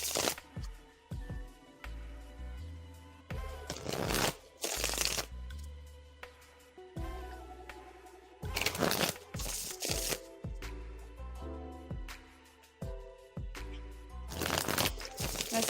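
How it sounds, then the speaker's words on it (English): A deck of tarot cards shuffled in bursts of crisp riffling and flapping, close and clear, separated by short pauses filled with softer handling sounds and no speech. "Let's shuffle now, please."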